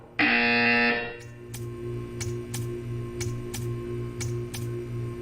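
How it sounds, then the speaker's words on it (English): A loud, steady electronic buzzer tone sounds for about a second in the Portal 2 video game test chamber, followed by a rhythmic mechanical ticking with low pulsing hum beneath. "You will hear a buzzer."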